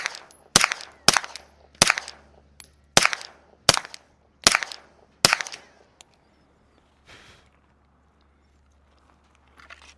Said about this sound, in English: What you're hearing is the infinity target that's getting smacked.